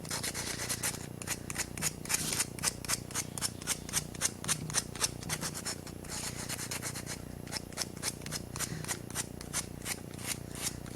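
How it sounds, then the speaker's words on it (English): A paper mache sculpture is sanded by hand: steady, close rasping strokes in a quick repeated rhythm, with a brief pause midway, and no voices. "I could just continue to go through and sand certain areas and get it to where I'm happy with it"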